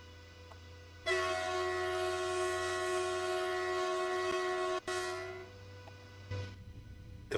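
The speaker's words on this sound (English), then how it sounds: "that's exactly how a train horn should sound" A BR 101 InterCity locomotive horn in Train Sim World 2, a single loud, steady two-tone blast lasting several seconds over a low rumbling engine, followed by a shorter fading burst.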